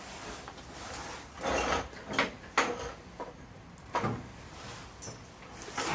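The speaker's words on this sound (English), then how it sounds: "Alessia's just jacking it up, making sure she does it on the reinforced part of the seal" A car jack lifts a Volkswagen Golf Mk4 in a garage, placed at the reinforced sill seam, with faint mechanical creaks and clunks in irregular bursts over a quiet room.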